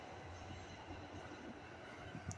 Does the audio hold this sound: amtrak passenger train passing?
yes